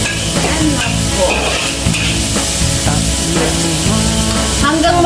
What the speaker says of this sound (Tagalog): Hanggang mag-brown yung sibuyas natin para mabango.